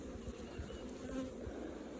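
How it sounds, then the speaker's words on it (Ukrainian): Honey bees swarm at an apiary while bee packages are being made up, a dense, steady buzzing drone close to the microphone with no voices. "9 травня 23-го року формуємо бджолопакети"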